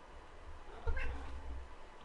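A cat meows once, mid-clip, over a steady low background hum, fairly quiet and close.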